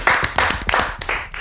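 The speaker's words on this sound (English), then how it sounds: "Can you just clap for the season real quick?" A small group of people claps close by in a quick burst of uneven, rhythmic hand claps, with no talking.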